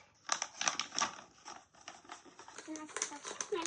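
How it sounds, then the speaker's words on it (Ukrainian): Crinkly plastic rustling and tearing at close range as a small plastic packet is opened, in short irregular bursts with soft handling noises between them. "Розкриємо оцей міні-пакетик."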